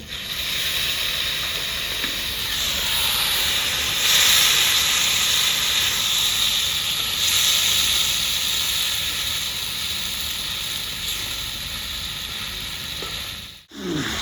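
Water poured into a hot pan of soybean and potato curry sets off a loud, continuous hiss and sizzle that holds steady for over ten seconds, then breaks off briefly near the end.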